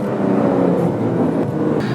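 Engine of a Porsche 992 Carrera 4 GTS blipping its throttle on downshifts, a loud, dense, continuous mechanical roar that stays close and steady for two seconds with no talk.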